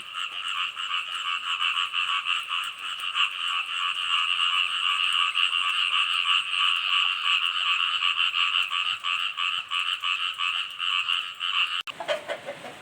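A dense chorus of frogs croaking continuously and rhythmically, loud and close, with a steady wash of rain-like noise beneath, cutting off near the end.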